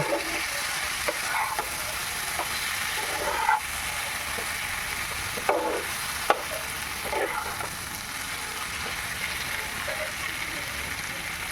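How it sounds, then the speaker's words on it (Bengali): Cut pieces of goat meat are stirred and fried in oil, with a constant close sizzle and occasional scraping, shuffling spatula strokes plus a couple of brief metallic taps. "টুকরো টুকরো করে কেটে রাখা খাসির তেল দিয়ে ভালো করে নেড়ে চেড়ে নিচ্ছি"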